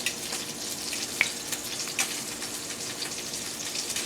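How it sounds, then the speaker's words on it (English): A steak sears in a hot pan with a steady, close sizzle and crackle, a few sharper pops standing out over the continuous hiss, with no voices. "I'm going to let it sear for 1 more minute"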